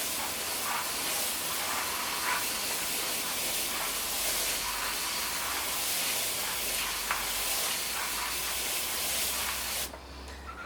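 A steady hissing spray of water onto potting soil in a plant container runs continuously for about ten seconds, close by, then cuts off abruptly.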